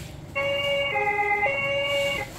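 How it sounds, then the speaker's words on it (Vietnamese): An ambulance siren effect comes from a toy talking card reader, a steady two-tone electronic wail that holds for about two seconds after a brief quiet start, close and alone. "cứu thương, ambulance."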